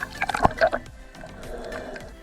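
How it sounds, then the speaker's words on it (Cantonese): Brief watery splashes and sloshing at the start as swimmers enter cold, choppy sea water off Kapalai island, Sabah, then a softer wash of moving water that continues steadily, close up. "我哋落水啦，啲水呢比想象之中凍啊"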